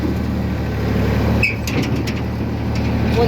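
A Massey Ferguson 5245 tractor hauls a loaded farm trolley, its engine holding a steady, close low rumble throughout, with a brief hissing burst partway through.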